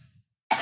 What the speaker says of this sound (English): I might leave the coughs in at this point.